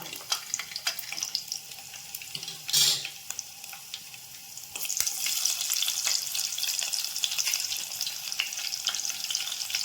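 Onion, curry leaves and lentils sizzling and frying in a pan for semiya and Bombay rava upma, with a steady hiss that grows louder after a few seconds and occasional stirring clatter, no talking.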